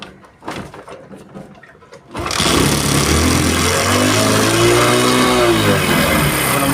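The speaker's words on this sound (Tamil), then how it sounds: "இப்போ வண்டி திரும்பி ஸ்டார்ட் பண்ணுறேன்." A vehicle engine is restarted after stalling, cranking briefly amid some handling noise, then catching and settling into a loud, steady idle with a clear rising and falling tone, close up and with no talk.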